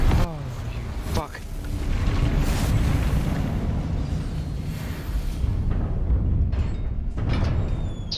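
A fiery Confringo spell blast in Hogwarts Legacy erupts with a loud booming burst, followed by a long rumbling, crackling roar that sustains for several seconds amid game noise.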